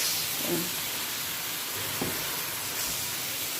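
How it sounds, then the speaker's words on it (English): Green spices frying in a pan give a steady, soft sizzling hiss throughout, with a couple of faint clinks or stirring knocks near the start and middle. "Let it fry for a while."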